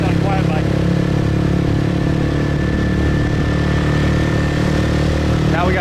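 A motorcycle engine runs loud and steady close by on a Vietnamese street, a continuous throbbing drone with rumbling traffic around it.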